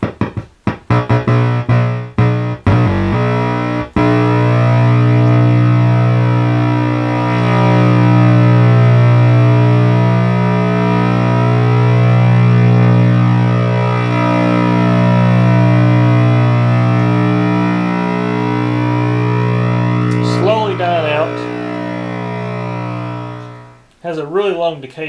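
A restored R.A. Moog Minimoog synthesizer sounds a sustained, buzzy note with a very long decay, holding steady with slow wavering tones after a few short clicks and blips at the start.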